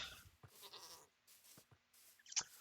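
Goats in the video game Minecraft bleating and ramming each other into a fence gate; several short, fairly quiet bleats and thuds separated by pauses, ending in a sharper, louder hit.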